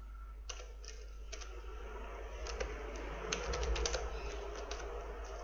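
Keys on a computer keyboard tapped while an SQL query is written, a quiet, irregular clatter of soft clicks that bunch into short bursts over a steady low hum, with no voices.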